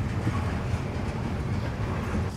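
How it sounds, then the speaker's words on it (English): A long train carrying shipping containers rumbles steadily past at close range, a continuous low roar of rolling wagons with faint clattering and no voices. "It's a long train."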